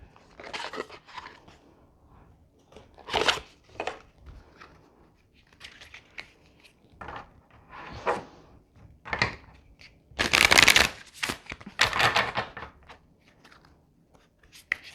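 Tarot cards are shuffled in repeated crisp, rustling bursts, fairly close and loud, with short pauses between them.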